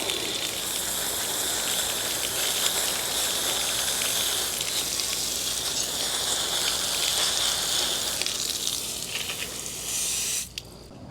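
Garden hose spraying water to wash a bicycle, a loud, steady, close hiss of spray running unbroken for several seconds before cutting off abruptly near the end.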